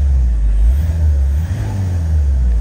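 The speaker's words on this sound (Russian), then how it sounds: "Мотору чётки отолуп турат." A 2014 car engine idles with a steady, loud low hum and slight fluctuation, heard up close and alone.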